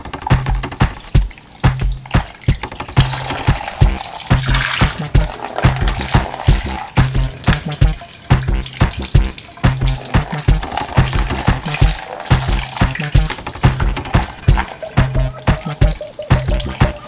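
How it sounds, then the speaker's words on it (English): Saltfish being rinsed and left to soak in water for fried saltfish, giving steady, close splashing and trickling that runs without pause, with rhythmic low knocks throughout. "we're going to wash our saltfish, put it in some water, let it soak"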